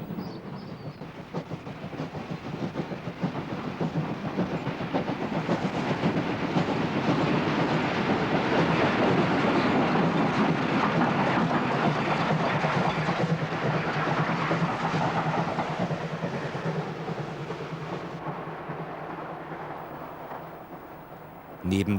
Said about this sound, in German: Laufend kommen Dampfloks vorbei